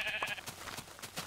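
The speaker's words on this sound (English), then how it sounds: "Oh, 4 sheep just spawned." Minecraft sheep bleat in the game, a short clear bleat over faint background, heard alone without talk.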